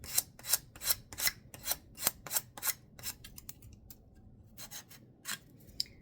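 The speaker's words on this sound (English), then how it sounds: "I'm just gonna continue sanding this until I've got the look I want." A Christmas ornament being sanded by hand: a run of quick, regular rasping strokes that thin out into slower, scattered passes, fairly close and with no talking.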